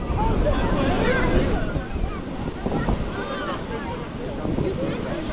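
Surf washing onto Labadi Beach in Accra, Ghana, a steady loud roar of breaking waves mixed with wind buffeting the microphone, with faint voices in the background.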